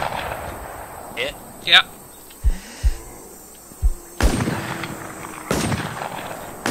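Gunshots in the survival video game WarZ: several sharp, loud reports fired one after another at irregular intervals, with louder blasts near the end, mixed with short exchanges between players.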